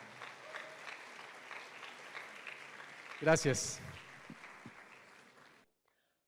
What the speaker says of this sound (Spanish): te damos un aplauso en el nombre de Jesús